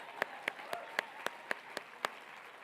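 A small audience clapping at a keynote talk, a faint, sparse patter of about eight distinct claps spaced evenly, with no voices over it.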